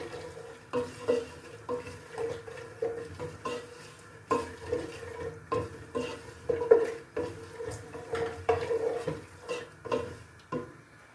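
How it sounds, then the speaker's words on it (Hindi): Walnuts and almonds fry in melted ghee as a spoon stirs them around the pan, giving a soft, rhythmic series of scraping strokes over a faint sizzle. The sound is fairly quiet and close, with no voices. "यहाँ पर हमने अखरोट और बादाम ले लिए और इसको हमने फ्राई कर लेना है"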